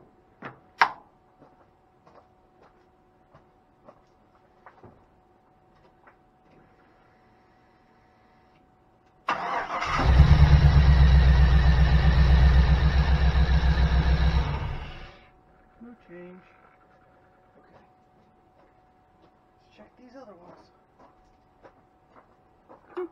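A 1979 GMC C15 truck with an LS V8 swap and a misfire fault cranks and catches, then runs at a loud, deep, rumbling idle for about five seconds before shutting off; scattered clicks and faint sounds around it.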